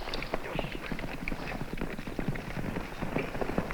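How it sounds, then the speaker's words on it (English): Horses' hooves clatter in a steady, quick clip-clop rhythm on open ground in an old Lone Ranger western TV episode, moderately distant and partly masked by background noise. "Horses are coming."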